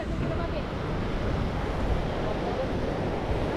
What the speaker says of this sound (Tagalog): malalaki yung hampas ng alon